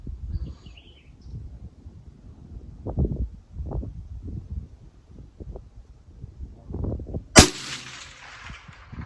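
A single sharp rifle shot fired at a white target 400 yards out, outdoors, cracking loud and sudden near the end after a stretch of low wind and handling noise, with a brief rolling tail.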